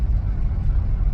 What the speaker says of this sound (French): Je suis dans un camion de transport